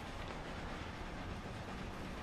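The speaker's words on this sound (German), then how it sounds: "Da kommt der Zug und rauscht unter uns vorbei," Train in the racing video game Forza Horizon 2 rushing past beneath a bridge, a faint, steady rumbling roar of rail noise that stays level throughout with no voices.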